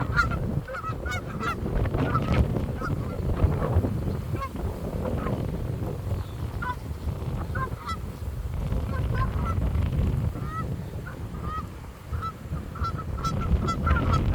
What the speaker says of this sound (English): I'm getting distracted by these stupid birds that just...